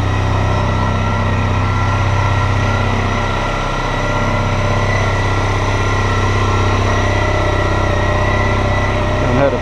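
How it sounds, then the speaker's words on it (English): A Harley-Davidson Panhead motorcycle engine runs at a steady, loud idle close by, a continuous rumbling exhaust note with no break for nearly ten seconds. "Heard a Pan before, they got a really strange exhaust note"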